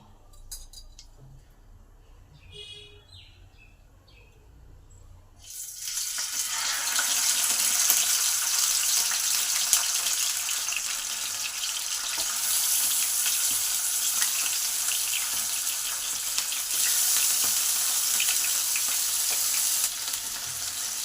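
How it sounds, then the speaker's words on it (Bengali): Fish fried in oil in a hot pan on low-to-medium gas for a Bengali bata fish curry, a loud continuous sizzle and spatter that erupts after a few quiet seconds of faint clinks and then holds steady, close up. "প্যানে পরিমাণ মতন তেল দিয়ে দেবো প্রথমে মাছগুলোকে ভালো করে ভেজে নেবো"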